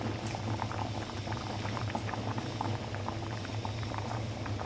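Dal bubbling in a covered pot over a medium flame, a continuous quiet blub and patter of boiling liquid with a low steady hum beneath it, no voices.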